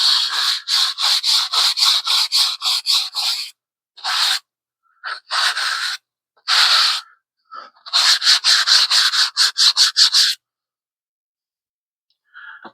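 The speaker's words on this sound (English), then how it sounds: "And then wipe off the excess." A cloth rubs excess wood stain off freshly stained wooden pieces for a wall-mounted hair care caddy, giving bursts of quick, close swishing wipes in fast rhythmic runs, broken by short pauses and ending in a lone faint wipe.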